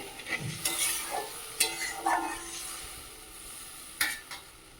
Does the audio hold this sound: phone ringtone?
no